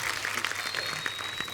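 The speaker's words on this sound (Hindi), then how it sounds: "जोरदार तालियां सुखबीर पाजी और बादशाह पाजी के लिए" Studio audience on a comedy talk show applauding loudly and steadily, a dense wash of clapping with no voices over it.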